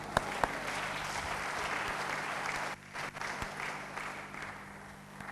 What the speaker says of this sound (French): On applaudit pour cela.